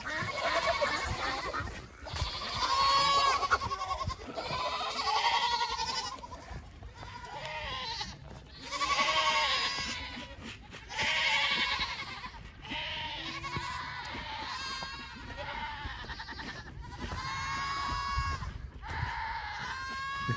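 A herd of goats bleats repeatedly and loudly at close range, overlapping calls rising and falling throughout, with a farm worker herding them out of a pen.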